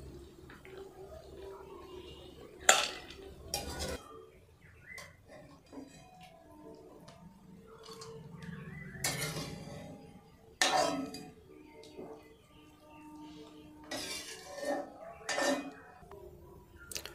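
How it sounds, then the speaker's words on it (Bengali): Boiled green banana, eggplant and other vegetables are lifted out and strained of their water: intermittent splashes, trickling and gurgling pours mixed with metal clinks of utensils, close but fairly quiet, with no talking. "আমি এগুলোকে এবার তুলে নেব। জল ছেঁকে তুলে নিতে হবে।"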